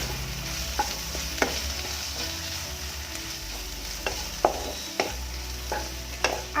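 Coriander and cumin powder being stirred into a frying mixture in a pan, with a steady sizzle and repeated sharp scrapes and taps of a spoon, close and alone without talk.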